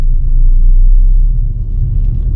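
A car engine accelerating in third gear during a driving lesson gives a loud, steady low rumble that continues throughout with no talk.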